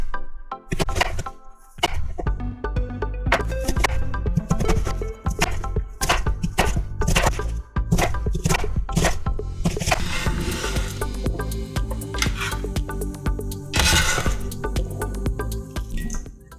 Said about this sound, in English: 1 1/4 cup chopped onions.